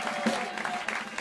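Audience applause for a jazz pianist in a small club, a short burst of steady clapping filling the room at moderate volume.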